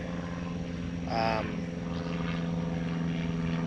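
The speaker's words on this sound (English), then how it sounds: "a plane overhead." Propeller airplane passing overhead above a state park campground, a steady distant drone with a brief louder swell.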